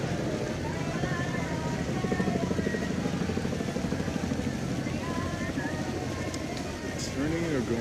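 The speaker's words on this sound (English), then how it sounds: "Whirling blades of a helicopter above us, if you can hear that." Overhead at an ANTIFA street protest, a helicopter churns out a continuous thumping rotor drone that stays fairly loud and even throughout, while people talk nearby.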